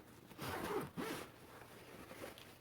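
A zipper on a camping storage organizer with separately zippered compartments is pulled in two close, raspy strokes, the second shorter, then quiet handling noise.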